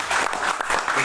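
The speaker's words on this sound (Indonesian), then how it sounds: "Tepuk tangan Bapak Ibu." An audience at a business presentation claps together in a brief, dense burst of applause that fills the room, with no one speaking over it.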